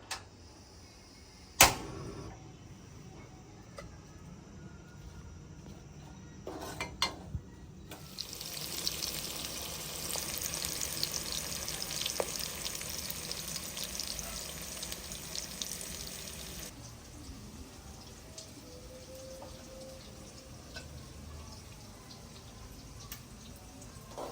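Quiet, steady sizzling of onions frying in a wok, with a few sharp clinks and knocks early on and a brighter hiss through the middle.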